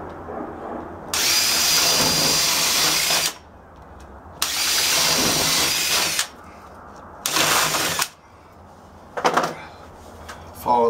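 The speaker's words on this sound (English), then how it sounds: "I'm gonna get my drill, make a couple of holes in this one corner" A power drill boring holes in drywall whines in three long bursts with pauses between, close and loud, followed by a short final burst.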